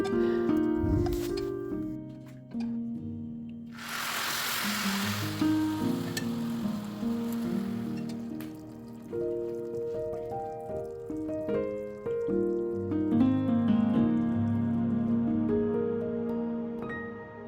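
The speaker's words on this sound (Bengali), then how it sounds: "গরম গরম বাকলাবার উপরে দিয়ে দিব এটার সিজলিং সাউন্ডটা খুবই স্যাটিসফাইং আসলে" Warm syrup poured over hot baklava sizzles in a broad hissing burst lasting a few seconds, set under a steady music bed that continues before and after.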